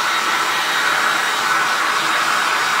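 A hair dryer blows steadily to dry a photo transfer on a wooden board, giving a loud, constant airy whoosh that holds without a break from start to finish.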